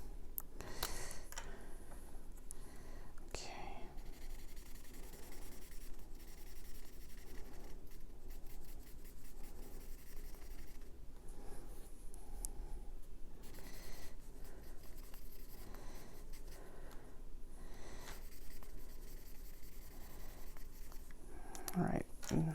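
The nib tip of a marker scratches and rubs across a label surface in short, repeated strokes, soft and close, with a little speech toward the end.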